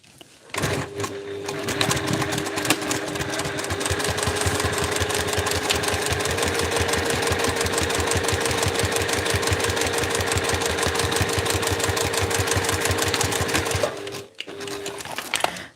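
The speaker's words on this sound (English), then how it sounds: "now I'm going to top stitch that trim and hide all those raw edges" A sewing machine runs continuously while top-stitching fabric trim on a handmade backpack, its rapid even needle chatter close and loud, starting abruptly, holding steady for over twelve seconds, then stopping, with a few brief stitches after.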